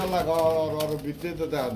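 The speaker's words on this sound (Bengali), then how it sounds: "আমার লুটন কবুতর লুটাবে ভিতরেই না" Lotan tumbler pigeons coo close by in soft, rolling bursts, with a voice briefly audible in the background.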